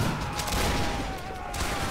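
A musket volley rolls out in the Napoleonic-era game Mount and Blade Warband: a dense, crackling burst of many shots fired together, loud and sustained for the whole moment, with no voices over it.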